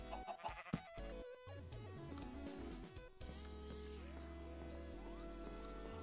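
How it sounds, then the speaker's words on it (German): A Minecraft sheep bleats over in-game background music and ambient game sounds, the bleat short and moderately loud amid steady tonal music. "Schaf!"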